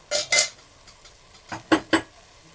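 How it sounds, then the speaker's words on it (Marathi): A metal lid clanks onto a cooking pot, with two quick rattling clatters followed after a pause by a softer tap and two more sharp metallic clinks, close and clear with no talking. "आता मी याच्यावरती झाकण ठेवणार आहे."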